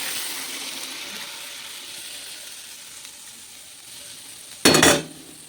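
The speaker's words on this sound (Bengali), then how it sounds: "এই যে তার মধ্যে ওখানে জল ঢেলে দেবো।" Water is poured into a hot frying pan, giving a single loud burst of sizzling hiss near the end that follows a few seconds of faint, quiet background frying.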